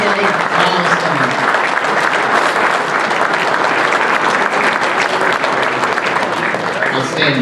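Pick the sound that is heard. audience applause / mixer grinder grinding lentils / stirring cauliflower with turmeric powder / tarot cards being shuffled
audience applause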